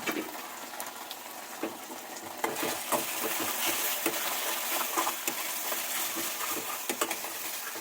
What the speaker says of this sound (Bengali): একটু নুন হাত মতো দিয়ে এবার এটাকে নাড়বো